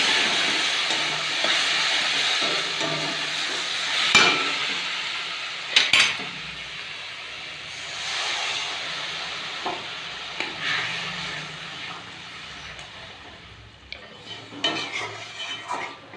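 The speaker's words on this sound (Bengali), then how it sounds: "এতে কিছু লবণ আর হলুদ দিয়ে মশলাটাকে কষিয়ে নেব।" Spices stir-fried with salt and turmeric in a pan for a goat meat curry, a steady broadband sizzle with occasional sharp spoon scrapes and clinks against the pan, fading slightly toward the end.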